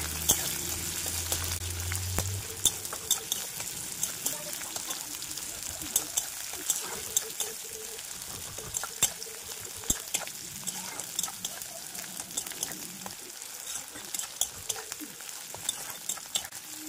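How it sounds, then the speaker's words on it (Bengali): Green chillies fry in a pan with a faint, steady sizzle, marked by frequent light clicks and scrapes of stirring. "ওর মধ্যে দিয়ে দেব কাঁচা লঙ্কা। এটা একটু ভাজা ভাজা হয়ে গেলে তারপরে দিয়ে দেব ডাল।"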